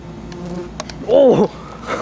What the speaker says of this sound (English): This bee's not very active at all.